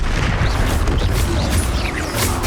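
Confringo blasting-spell explosion in Hogwarts Legacy combat, a dense, loud, continuous rumble of booming bursts and crackling debris filling the whole moment without a break.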